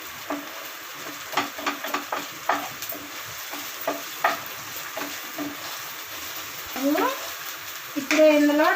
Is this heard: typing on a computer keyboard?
no